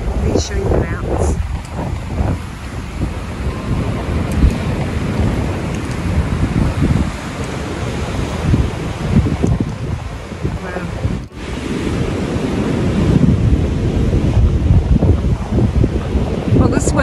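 Strong, cold wind at Ausable Lake in the Adirondack Park, New York, roaring and buffeting against the microphone in heavy continuous gusts, with a speaking voice partly buried in the rumble.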